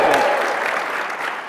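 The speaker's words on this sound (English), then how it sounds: "You want to practice cheering?" An audience at a live tech presentation breaks into loud, sustained applause with some cheering, close and dense, slowly easing off.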